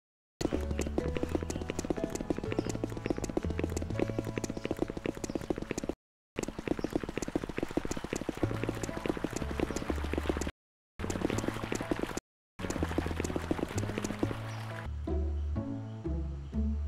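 Footsteps from the video game Death God University thud in a steady, rapid rhythm across most of the stretch. They fall loud and close, break off briefly a few times and give way near the end to a softer tonal background.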